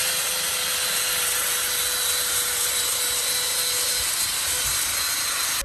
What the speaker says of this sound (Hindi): आगे इस रेगमाल की मदद से और भी इसे फाइन और फिनिशिंग दी जाती है